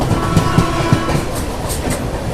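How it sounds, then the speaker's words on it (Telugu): Seshadri Express running from SMVP to Kakinada Port rolls past close by, its wheels beating a steady clickety-clack rhythm over the rail joints beneath a continuous rumble. "SMVP నుండి కాకినాడ పోర్ట్ వెళ్ళే ట్రైన్ ఇది."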